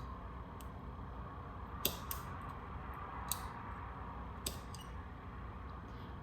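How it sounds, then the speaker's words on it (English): Artificial nails being trimmed to length, a few sharp, quiet clips spaced a second or so apart against faint background hiss. "Okay, so you cut them at the length you want"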